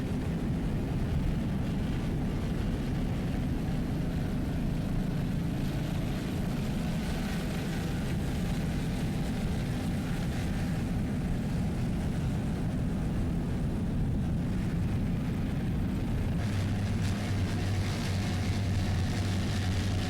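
Offshore racing powerboats with Mercury inboard engines, among them a 40-foot Platinum powerboat, race at the 2002 World Championships in Key West, Florida, a dense, continuous loud engine roar with wind and water noise, no voices.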